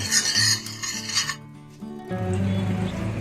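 Ghee being spread across a hot tawa griddle with a rasping, rubbing scrape, in close repeated strokes that pause briefly before a softer continuous smear resumes.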